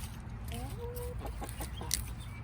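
Chickens cluck in a small garden setting, several short rising calls and clucks scattered over a constant low background hum, fairly close and without speech.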